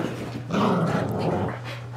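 Pet dogs growl and scuffle in play after dinner, a low rumbling snarl swelling up close for a second or so, with no talk.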